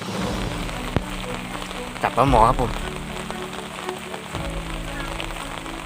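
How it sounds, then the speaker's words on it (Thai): Heavy rain falls steadily as a broad hiss beside a canal where climbing perch are being caught, with someone talking over it. "ฝนตก หนัก นะครับ"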